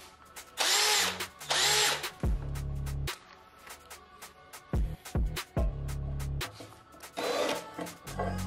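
A power drill with a hole saw cutting into ceramic tile whirs in several bursts of varying length, loud and close, separated by short pauses and clicks.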